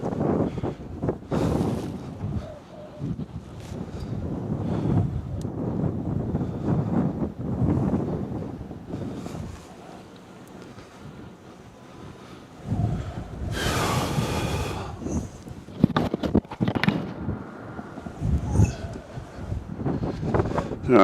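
Gusty wind buffets a microphone at Cincinnati/Northern Kentucky International Airport on a cold day, with a steady roar that rises and falls across the whole stretch and a brief lull partway through.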